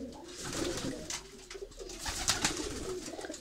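Breeder pigeons coo softly in a low, rolling rhythm, several birds overlapping at moderate distance, with no talking.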